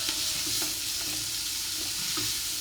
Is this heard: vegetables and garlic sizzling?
yes